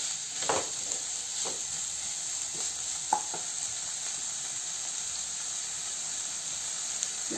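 Oats roast in a pan over a high gas flame with a steady frying sizzle and hiss throughout, broken by a few soft scrapes of stirring, close by and with no speech.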